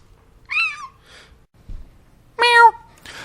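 A man imitates a cat's meow with two drawn-out vocal meows, close and fairly loud, separated by a short pause and faint background noise.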